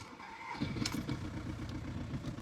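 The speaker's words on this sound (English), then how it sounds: "Okay, that's definitely misfiring so far" An Audi turbo car engine cranks and catches, then runs rough and uneven with a misfiring, lumpy idle, heard close and steady after a brief starter whir.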